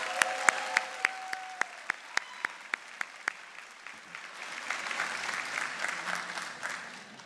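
A few sharp, evenly spaced claps ring out at a graduation convocation for the class of 2024, then a softer, scattered wash of crowd applause and murmur follows.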